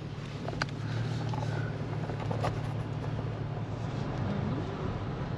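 A truck bounces along a rough off-road track, its steady low engine drone and rumble continuous and close throughout, with faint rattles and knocks from the cab.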